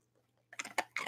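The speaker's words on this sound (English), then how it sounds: "listening to her chewing on these things on headphones is great." A dog crunches a cookie up close, three or four sharp, crisp bites after a quiet start, heard alone without talk.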